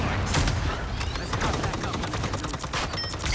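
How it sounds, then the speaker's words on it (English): Heavy, continuous gunfire in the hero shooter Marvel Rivals, dense overlapping shots and impacts rattling steadily at close range with no break. "Someone's shooting at us!"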